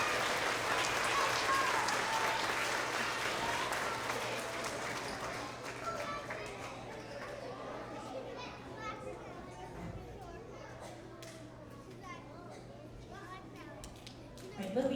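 Children and adults at an end-of-year kindergarten to second grade school award assembly applaud and cheer for the award recipients, a sustained wash of clapping that slowly fades while kids chatter throughout.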